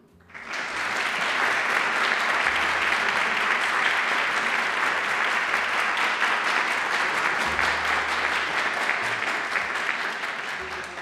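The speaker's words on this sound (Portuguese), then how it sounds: "novamente uma salva de palmas aos homenageados de hoje" A large audience at a solemn ceremony honouring shooters of the Tiro de Guerra in Jacareí breaks into sustained applause, loud and steady for about ten seconds before tapering slightly at the end.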